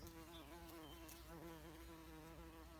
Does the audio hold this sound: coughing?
no